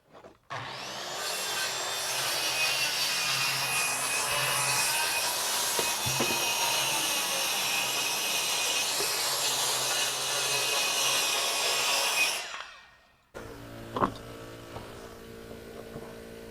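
A power saw bites into a wooden wall stud, a loud, steady cut lasting about twelve seconds before the motor spins down, then quieter handling noises follow.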